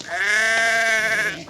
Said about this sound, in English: watched as Stretch Snodgrass somehow lost control of his sheep, which was next in line for grading